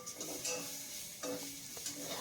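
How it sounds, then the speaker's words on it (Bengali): Gram flour (besan) dry-frying in a pan, stirred with soft, repeated scraping strokes over a faint sizzle, quiet and close with no voices. "এইভাবেই কিন্তু বেসনটাকে ভালো করে ভেজে নিতে হবে"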